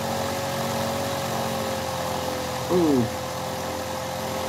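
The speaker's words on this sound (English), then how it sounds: "I let the flywheel really build up on frequency" A 3D printed Dodecatron generator flywheel spins with a steady, even mechanical hum and drone, while a voice briefly exclaims once near the end.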